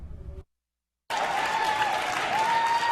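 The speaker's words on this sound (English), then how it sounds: "Crowd is loud." A loud crowd applauds and cheers at a Democratic election-night headquarters on a 2014 midterm night. It starts abruptly after a brief cut of silence and carries on as a dense, steady roar with a faint tone running through it.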